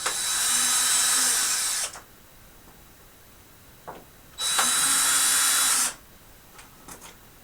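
A power screwdriver backs screws out of a computer case in two sustained whirring bursts of about one and a half seconds each, separated by quiet handling clicks.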